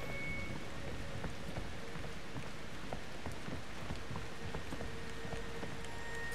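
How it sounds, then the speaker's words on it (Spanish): Steady rain in the video game Outlast 2 falls evenly and densely, a continuous hiss of drops with a few sharper splats and no talk. "Está lloviendo sangre"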